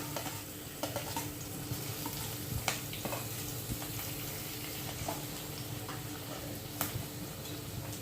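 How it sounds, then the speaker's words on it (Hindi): Long-sliced tomatoes hitting hot oil in a frying pan, a steady close sizzle with scattered ticks, clicks and stirring knocks throughout. "मैं इसमें ये लंबे लंबे कटे हुए टमाटर डाल रही हूँ।"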